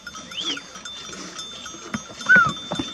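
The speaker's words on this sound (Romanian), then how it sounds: "Da, avem vacile iară." Cattle with cowbells at a mountain sheepfold, heard as scattered clanks and a few lowing calls at moderate distance, with no talk.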